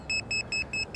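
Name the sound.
drone lost-model buzzer beeping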